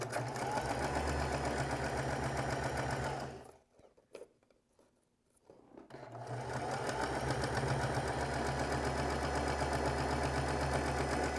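Sewing machine stitching fabric held by a pin set clear of the needle, a loud, close, steady motor hum with rapid needle clatter, stopping for about two seconds midway before running on steadily.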